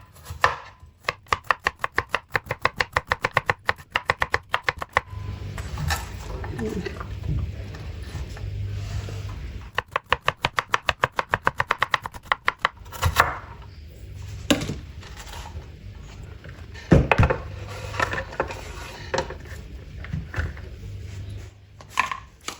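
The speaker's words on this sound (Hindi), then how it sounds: "इस तरह आपने कटिंग कर लेनी है।" Bitter gourd (karela) is sliced with a knife on a board in long runs of rapid, rhythmic chopping, with pauses and some handling noise between bursts, close and clear throughout.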